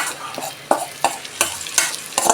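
Sliced capsicum is stirred into vegetable fried rice in a hot pan, with a sizzle under a quick run of about seven scraping spatula strokes, each sharper and closer than the last.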